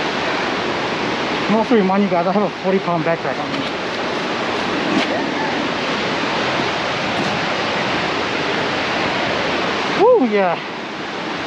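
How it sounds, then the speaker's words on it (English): Mountain waterfall close by, a steady broadband rushing roar that fills the whole clip, with someone speaking briefly near the start and again near the end. "head to the waterfall."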